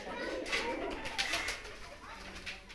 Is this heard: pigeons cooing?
yes